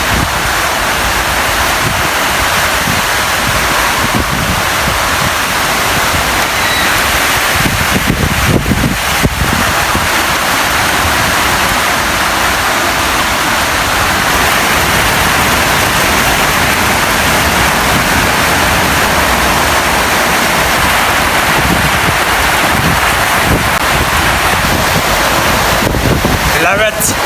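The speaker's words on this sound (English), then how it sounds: "Raining." First rain in four months in the Philippines, a loud continuous wash of rainfall with wind buffeting the microphone, while voices talk intermittently over the steady downpour.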